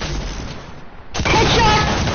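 A sudden loud gunshot blast in a hide and seek video game, bursting in abruptly after a quiet stretch and ringing on with a noisy tail.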